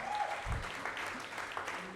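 Audience applause at an open mic awards event, a steady moderate patter of clapping hands running throughout, with a low thump and brief voice traces underneath.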